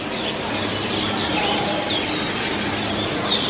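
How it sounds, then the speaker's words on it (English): A zoo aviary is full of many birds calling at once, with chirps, tweets and soft coos layered over a dense, steady bed of chatter that lasts throughout. "So many birds in here, it's lifting with them, isn't it?"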